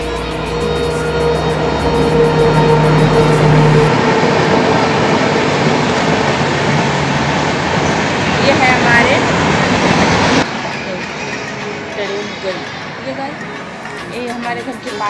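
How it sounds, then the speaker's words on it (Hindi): Train rumbling past on a railway line near a house in Bihar, a loud close roar with rattling wagons that holds for several seconds and then drops off, while someone talks over it. "ट्रेन आ रही है, थोड़ा सा मैं आपको ट्रेन दिखाऊंगी"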